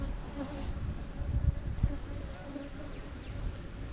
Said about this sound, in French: Il y a une pauvre abeille qui m'a piqué.